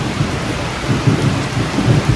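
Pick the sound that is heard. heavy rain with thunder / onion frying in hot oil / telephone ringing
heavy rain with thunder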